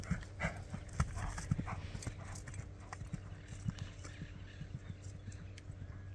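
A gentle blue-roan overo horse walks at a steady pace, its hooves clip-clopping in an even rhythm, close and moderately loud, with faint rural background noise.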